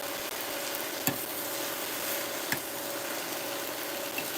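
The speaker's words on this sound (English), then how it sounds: "But all I'm doing is just cooking it till it's done. And this is my see-through skillet" Taco meat sizzles and fries in a see-through skillet, a steady close hiss with a couple of faint scraping stirs.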